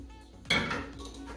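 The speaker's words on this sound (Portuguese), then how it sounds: "Já vou deixar a panela de pressão também aqui," A metal pressure cooker pan is set down in a home kitchen with a single clanking knock, followed by a short ringing metallic decay against quiet room tone.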